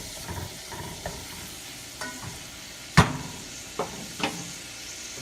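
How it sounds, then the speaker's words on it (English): Onions sauté in a saucepan while being stirred, giving a soft sizzle broken by scraping spoon strokes and one sharper clack near the middle, all fairly quiet with no talk. "stir this in your saucepan and just let those onions, like I said, get translucent"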